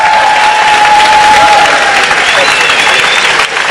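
A crowd at a 2006 World Championships badminton match in Spain breaks into loud, sustained applause, dense clapping filling the arena with a faint whistle-like tone drifting over it.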